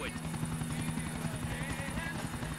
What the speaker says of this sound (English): und jetzt unauffällig mit dem Heli verfolgen